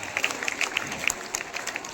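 Applause from guardians and villagers at a school teacher's farewell ceremony, a brief patter of scattered claps heard from a moderate distance.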